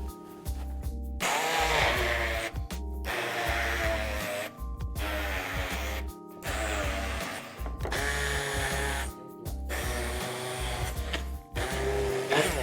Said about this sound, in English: using a handheld blender, I'm just going to whiz it all together to make a smooth paste